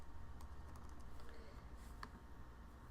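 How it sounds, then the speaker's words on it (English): Keys tapped on a computer keyboard in a quiet room, a scattered run of soft clicks over a steady low background hum, with no voices. "You can just type."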